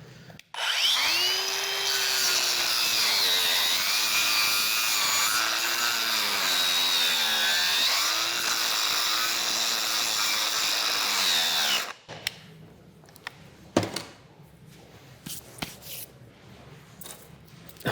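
A battery-powered carving tool grinds into Texas ebony wood with a loud, continuous whine whose pitch wavers under load for about eleven seconds, then cuts out, leaving scattered faint clicks and handling knocks.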